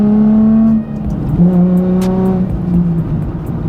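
Nissan 350Z with VQ engine, slightly damaged, revving hard through gear changes: loud, close exhaust note rising and dropping in pitch with shifts, no talking.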